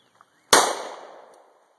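A handgun fired one-handed gives a single sharp, loud report that rings and decays over about a second, with no talk around it.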